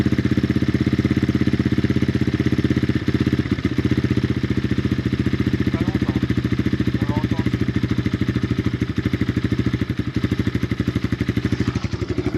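An Apollo Thunder 250cc motocross bike idles low and steady, with a fast, even engine pulse throughout.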